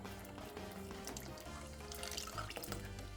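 Chicken broth and sauce pour from a blender in a steady liquid stream with dripping and splashing, quiet and close, continuing throughout.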